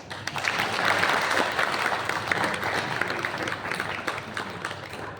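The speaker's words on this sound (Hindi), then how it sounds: "इतनी तालियां बजा दीजिए कि उनकी थकान मिट जाए" An audience at a Hindi poetry gathering in Siwan applauds in a broad, steady wash of clapping heard through a hall-like PA, continuous from start to end with no speech on top.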